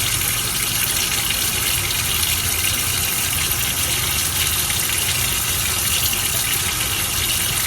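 Warm tap water runs in a steady, loud, unbroken rush as a Bath and Body Works candle jar is held under the stream for cleaning.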